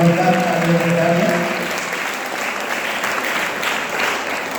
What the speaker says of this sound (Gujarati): મામલતદાર સાહેબના જોરદાર તાળીઓ